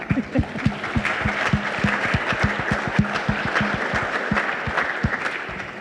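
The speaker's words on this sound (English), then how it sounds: "I think that deserves a round of applause." Steady applause from a crowd at a construction mental health summit, dense clapping that carries on without a break for several seconds, loud and close.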